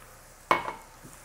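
A single sharp clink of a utensil against a pot while heavy cream and chopped portobello mushrooms are stirred for a seafood pot pie. A soft scrape follows, then the faint tap of a second clink.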